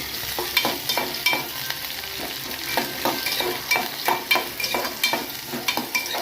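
Green chillies and onion fry and sizzle in a pot, a steady hiss broken by repeated scraping stirs at a quick, regular rhythm, close and fairly loud with no talking.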